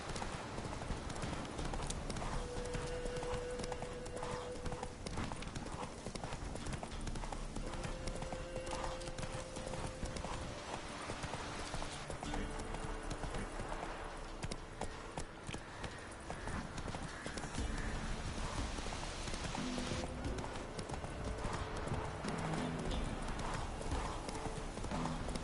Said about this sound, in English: This horse really does not like the water.